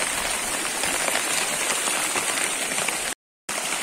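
Heavy rain pours down steadily during a Ceará downpour, a dense, even hiss close by and loud, broken only by a brief dropout near the end.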